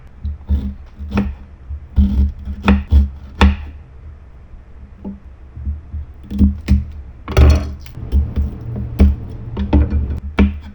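A knife strikes a cutting board in irregular sharp knocks while garlic and onion are sliced, several quick chops in bursts separated by pauses, close and fairly loud.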